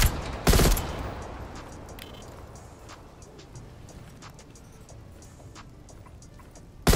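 Suppressed gunfire from a Call of Duty Cold War weapon: a sharp burst near the start, then scattered faint ticks and clicks, and another shot cut off at the very end.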